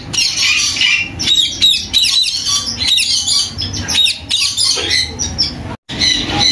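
Crowded bird market in Bahawalpur with caged birds, including fawn Java finches, squawking and chirping constantly, shrill overlapping calls close by with brief flurries and rustling between them.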